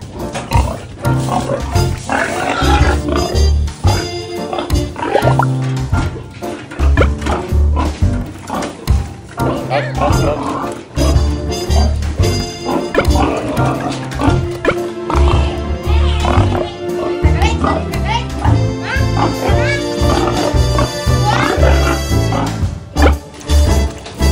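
Pigs, including sows, grunt and oink continuously and loudly at feeding time at close range, a busy overlapping chorus of squeals and snorts with occasional voices mixed in.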